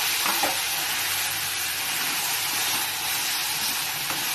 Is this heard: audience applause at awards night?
no